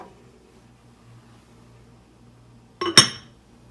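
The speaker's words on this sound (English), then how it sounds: "Let's put the lid on the crock pot" A glass lid set onto a crock pot of mulled apple cider with turmeric and ginger: one sharp clink with a quick rattle after a quiet stretch, near and clear, with no talking.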